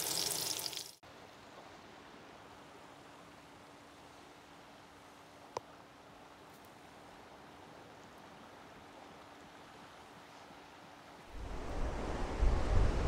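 Wind blowing across a seaside spot in Greece, heard as a steady, faint rushing wash with a low hum throughout and a single brief click. A louder burst of gusting rises near the end.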